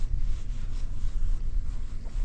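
Steady wind buffets the microphone on an open fishing boat at a speckled trout spot, a continuous low rushing roar with gusty swells and no talking.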